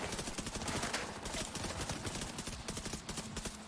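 Rapid, continuous gunfire from an MP5 and shotguns in the video game The Division 2 crackles in dense bursts, fairly quiet and distant-sounding, with no speech.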